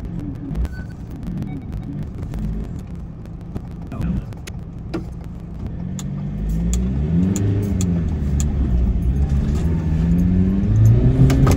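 A camper van makes a many-point turn on a snowy Arctic winter lay-by, its engine rumbling low and then revving harder and louder as it moves back and forth.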